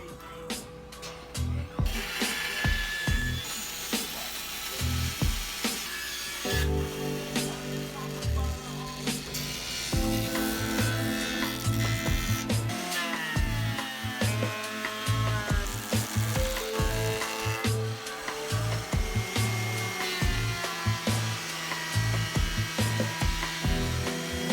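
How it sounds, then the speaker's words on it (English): A bandsaw rips the live edge off lumber with a continuous, loud cutting whine that rises and changes pitch as the board feeds through. Machine hum runs throughout. "these have a live edge that we will have to rip off with the bandsaw before taking it to the joiner"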